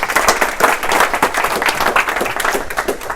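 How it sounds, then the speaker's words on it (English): Loud, lively applause from a meetup audience for a tech speaker, many hands clapping in a dense, fluttering rhythm with no break. "So can we please give a massive round of applause to Martin."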